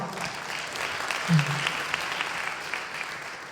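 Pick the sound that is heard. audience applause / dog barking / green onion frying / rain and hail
audience applause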